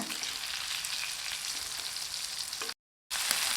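Kerala-style fish fries in coconut oil on a dosa pan over a medium flame, a dense, even sizzle that cuts out briefly to silence before resuming.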